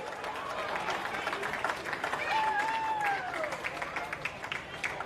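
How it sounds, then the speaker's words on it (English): Crowd applause at a women's team sports event during a state cup, a broad steady wash of clapping under an announcer's voice over a PA, with some whistle-like tones sliding through. "a round of applause for the Eastern Suburbs Women's Opens"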